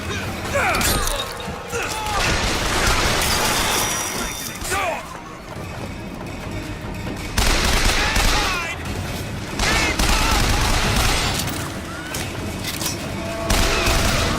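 Dense gunfire and crashing explosions from the BioShock Infinite video game, loud and nearly continuous with rapid shots and impacts, and a voice speaking over the action.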